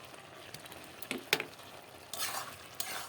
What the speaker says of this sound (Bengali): ডিমগুলো দিয়ে একবারে সব মাখিয়ে নেব